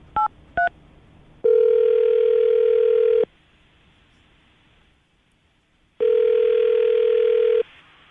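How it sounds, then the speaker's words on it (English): Two short telephone keypad beeps are followed by two long, steady ringing tones on the line, with a quiet pause between them. "I'm going to dial the phone number right now."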